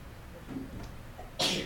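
A single sharp, close sneeze bursts out near the end, after quiet room murmur during a geometry lesson in a classroom.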